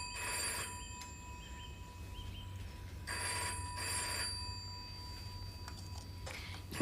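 An old-style telephone bell rings indoors in short repeated bursts separated by pauses, fairly quiet against a low background hum.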